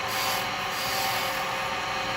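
Carbide chisel cutting a slight chamfer on the bottom of a nutcracker body spinning on a wood lathe, a steady continuous scraping hiss with no pauses or talk.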